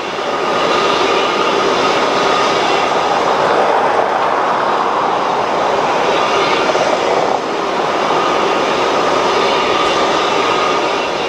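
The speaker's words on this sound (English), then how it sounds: "I noticed a loud venting occurring somewhere within the launch complex." Loud continuous roaring hiss of gas venting at a SpaceX rocket launch complex, steady and broadband, with a faint slight dip partway through and no voices.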